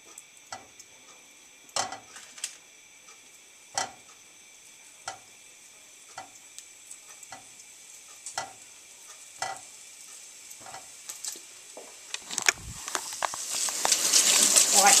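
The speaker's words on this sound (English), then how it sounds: "But break them up. Let them start frying." Hot dog pieces sizzle lightly in a pan with repeated sharp clicks and scrapes of a utensil breaking them up, building to a louder hiss and clatter near the end.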